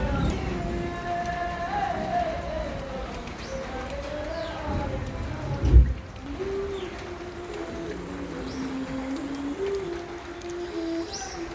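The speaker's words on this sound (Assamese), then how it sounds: "অকল সুদা বৰষুণ দিছে।" Light rain without hail falls outdoors as a steady, soft patter. Pigeons coo nearby and one dull thump lands midway.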